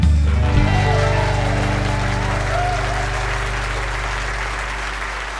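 Applause from a live audience welcoming eTown Hall host Nick Forster, a loud, steady wash of clapping that fills the room and gradually eases as music plays underneath.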